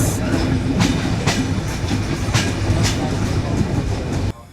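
The Padma Express train runs at night near the Ishwardi bypass, with steady rumbling and clickety-clack wheel beats at a regular rhythm, loud and close from on board, then cuts off.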